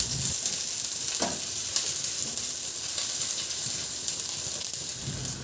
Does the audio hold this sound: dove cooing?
no